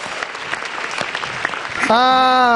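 Audience applause for comedian Yono Bakri at the SUCI X grand final stand-up comedy show, clapping building for nearly two seconds before a loud held tone, likely musical, cuts in over it.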